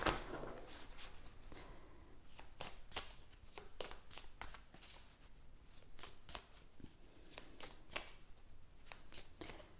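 Tarot cards being shuffled by hand for a reading: soft, close riffling and flicking, a steady series of quick card slaps across several seconds, quiet and alone.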